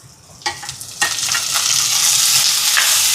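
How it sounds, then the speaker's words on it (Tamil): Tomatoes hit hot oil in a pan for a dinner of Ceylon parotta and egg curry, setting off a loud, close, bright sizzle that builds quickly and holds steady, with a few stirring clicks at the start. "இப்போ தக்காளி பழத்தை சேர்ப்போம்."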